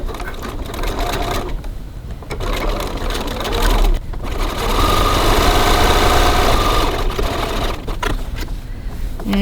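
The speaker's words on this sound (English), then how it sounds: "So now I'm going to top stitch the top edge of my phone pocket, 3mm 1/8 of an inch from the edge" A sewing machine top stitches the top edge of a phone pocket on a cross body bag, its motor whirring loudly in long runs broken by brief stops and restarts.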